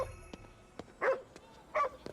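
A dog in Ghostwire: Tokyo gives two short, quiet barks about a second apart, with faint clicks and taps between them.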